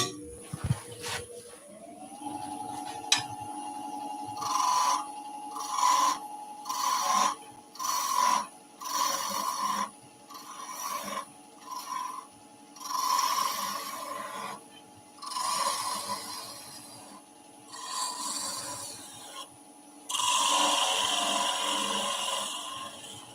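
A turning tool cuts a couple of decorative lines into a wooden spinning top spinning on a lathe, making a steady motor hum broken by repeated short bursts of scraping and rasping contact, with a longer cut near the end.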